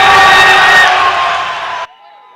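A crowd at a football match between Dexian A and Infotel FC roars and whoops with loud cheering after a hat-trick goal, a dense wall of voices that cuts off abruptly near the end.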